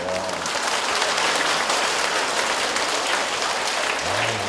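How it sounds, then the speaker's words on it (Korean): A congregation at a Catholic family-ministry retreat breaks into warm applause, a continuous wash of many hands clapping at moderate loudness from start to finish. "박수."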